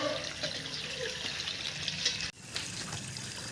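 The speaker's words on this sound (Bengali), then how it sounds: "দেখো জল বেরোচ্ছে এই যে এটা হচ্ছে জলের কালার" Water from a village tap runs muddy into containers being filled, a steady trickling, splashing flow close by that carries on throughout with no voices.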